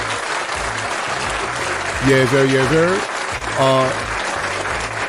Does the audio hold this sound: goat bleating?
no